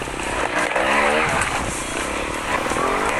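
Motorcycle engine in a bike racing video game: a continuous, loud buzzing engine drone with rising and falling revs and a rough edge, steady throughout without speech.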